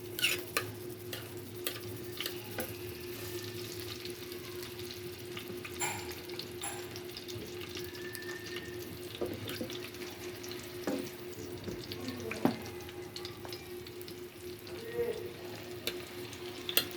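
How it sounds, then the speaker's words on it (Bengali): Eggplant slices fry in oil over a lowered gas flame, a faint, steady sizzle with scattered light ticks and small pops, fairly quiet throughout. "এখন আস্তে আস্তে হতে হবে বেগুন ভাজা হইতে সময় লাগে।"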